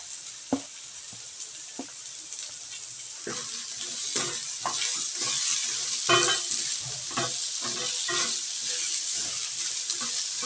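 Ginger and onion sizzle in a pan with a steady bright hiss, joined by repeated scraping and stirring clatter that grows louder midway.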